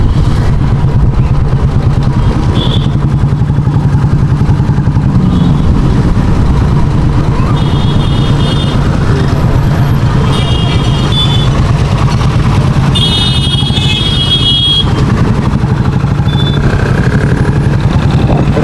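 A motorcycle rides through busy city traffic at a chowk in Sambhajinagar, its close, steady engine rumble running throughout with faint horns and beeps from surrounding vehicles.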